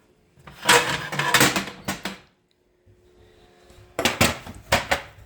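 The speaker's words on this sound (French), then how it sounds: "Donc je vais pouvoir enlever la plaque du four." A metal baking tray used for madeleines is pulled out of the oven with clanking, scraping metallic rattles in two clusters separated by a quiet pause, close and fairly loud with no one speaking.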